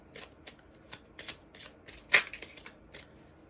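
A deck of oracle healing cards being shuffled, a quiet run of soft riffling bursts with one louder snap midway, heard close up with no talking.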